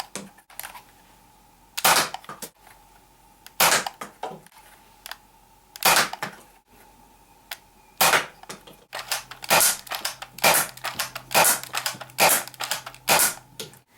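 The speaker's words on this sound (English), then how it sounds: "this Hammershot is shooting really well" A modified Nerf Hammershot blaster built as a Destiny Thorn replica fires foam darts, with sharp snapping shots spaced a second or two apart at first and then a quicker cluster of clicks and cocking clacks near the end, close and loud.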